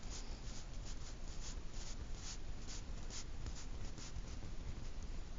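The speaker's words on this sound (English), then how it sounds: "I'm going to draw my line up here." A pen or marker drawing a line on a graph during a math lesson on graphing sine and cosine with vertical translation: a steady, faint scratching that runs unbroken throughout, with no talking.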